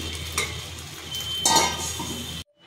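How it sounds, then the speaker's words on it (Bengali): Food frying in a covered pan on the stove for a homemade breakfast, a steady soft sizzle with a few light clinks of utensil against pan, ending abruptly. "আমি আবার উল্টো করে ভেজে নেব।"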